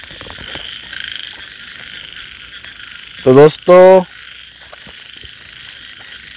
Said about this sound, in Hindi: यहाँ पे कुछ मेंढकों की आवाज़ आ रही है